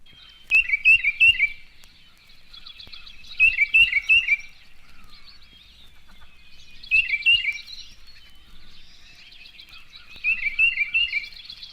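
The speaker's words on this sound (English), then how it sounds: "Peter song of the tufted titmouse." Tufted titmouse singing its whistled two-note Peter, Peter song, four clear phrases of rapid repeated notes spaced a few seconds apart, moderately near over a quiet background.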